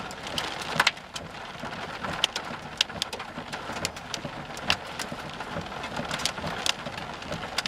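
Rain and small dime-sized hail fall steadily during a severe storm near Hammon, Oklahoma, with a dense wash of noise broken by sharp, irregular clicks of hailstones striking a vehicle close by.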